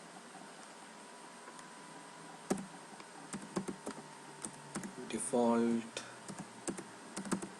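Java code being typed on a computer keyboard in NetBeans, with scattered crisp key clicks, a brief burst of voice partway through and quiet pauses between keystrokes.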